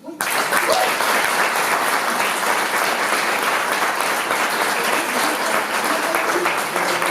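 Applause at a French decoration ceremony, a loud, dense and steady clapping from a sizeable crowd that starts abruptly and holds at an even level throughout.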